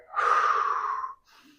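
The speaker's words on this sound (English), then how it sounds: "we're going to take one more deep breath here" One deep audible breath during a mobility and resting posture routine, a long airy inhale of about a second, close and clear, ending in a brief softer exhale.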